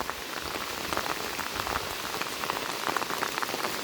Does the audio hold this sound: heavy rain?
yes